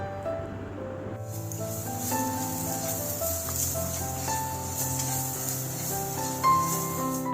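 Onions and spices with turmeric and salt fry in hot oil for poha pulao, a loud, steady sizzle and hiss close by, with a constant tonal hum in the background.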